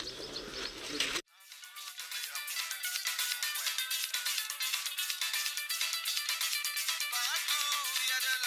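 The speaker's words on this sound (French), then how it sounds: "Alors fais jouer la musique de ton téléphone" Music played from a phone: after a burst of noise cuts off, a thin, bright melody with a steady pulsing beat starts and carries on evenly to the end, tinny and without bass.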